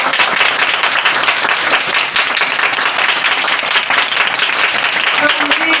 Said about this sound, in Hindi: यीशु के लिए जोरदार ताली।